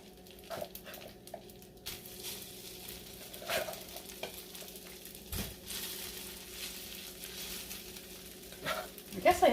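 Rice frying in a pan for Spam fried rice, with steady sizzling and intermittent scraping stirs across the clip, a few louder clatters near the end, and no talking.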